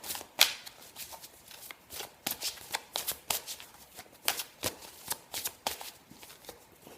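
Oracle cards are shuffled by hand in a quiet room, a series of soft, crisp riffles and flicks in uneven bursts, close and fairly faint.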